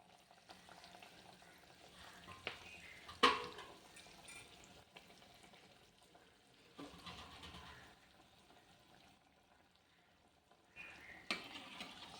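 Adhirasam, a sweet, fries in oil with a faint steady sizzle, broken by a few sharp clinks and scrapes as pieces are turned.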